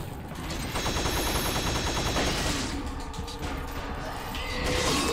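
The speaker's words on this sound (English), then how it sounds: "I have to shoot him." Gunfire in Resident Evil 4, close and loud, a rapid rattling burst of shots with mechanical clatter and ratcheting, followed by a duller stretch of impacts and rumble.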